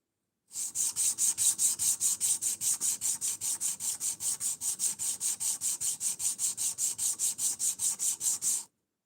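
A knife's handle scales being given a hand-rubbed finish: about forty even, rhythmic back-and-forth rubbing strokes, steady and close, with no talking.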